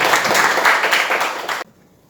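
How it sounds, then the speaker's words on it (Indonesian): A classroom of students applauds together in a steady burst of clapping that fills the room for about a second and a half, then cuts off abruptly into near silence. "Ya, jadi kita beri aplaus untuk semua ya."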